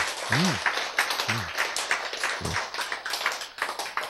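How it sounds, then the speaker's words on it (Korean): A modest round of audience clapping at a lecture, a soft, uneven patter of hands with faint voiced sounds mixed in, fairly quiet and distant throughout. "박수 한번 보냅시다"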